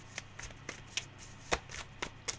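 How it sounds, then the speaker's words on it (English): Quiet, crisp riffling bursts as a tarot card deck is shuffled repeatedly, about four snaps per second, close and soft with no talking. "it's making the deck feel impossible to shuffle"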